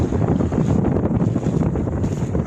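A sailboat moves under sail in a light breeze, about four and a half to five knots, near Cap Roig off the Spanish coast. Steady wind rush against the microphone covers a soft wash of water, with no talking.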